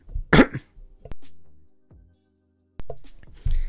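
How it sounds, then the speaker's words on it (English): A sick person coughs and clears their throat up close, a harsh burst followed by a few smaller throaty coughs and scattered short catches with quiet gaps between. "I'm not gonna cut that out because this is like the 7th time I coughed"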